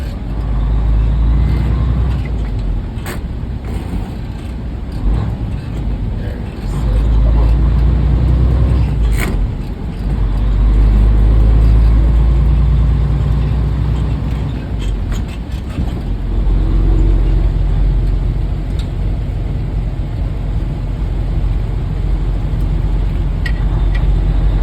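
A truck with a 10-speed manual transmission pulls a trailer in inclement weather while shifting gears, its engine a loud, steady, close rumble that swells and eases as the revs change.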